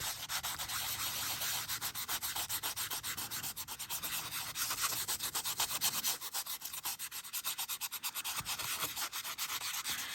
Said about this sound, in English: As soon as the ink is dry to the touch, we can gently buff it.